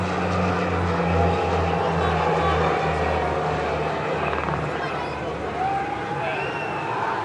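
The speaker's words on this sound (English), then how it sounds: "as we honor the bravery and commitment of the police helicopter squadron" Police helicopter squadron flying overhead in an aerial salute above a ceremonial parade in Mauritius, a loud, steady rotor throb and engine whine that fills the scene, with crowd noise and voices faintly underneath.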